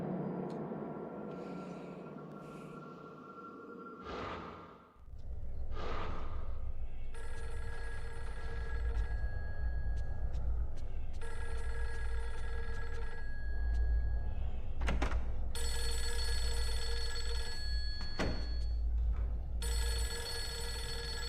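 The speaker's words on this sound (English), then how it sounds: "So the phone's ringing, but before I answer it, because that'll move things along" Inside the horror video game Fatal Frame 3, a telephone rings in repeated electronic bursts, each lasting about two seconds with short gaps between them, loud and close over a low droning ambience, with no talking.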